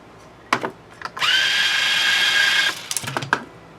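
A power string winder whirs steadily for about a second and a half while winding a string on an ESP LTD RZK-600 guitar, with brief clicks and handling noises just before and after.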